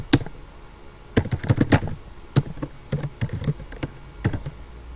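Code is typed on a computer keyboard in quick bursts of close, crisp key clicks, separated by short pauses.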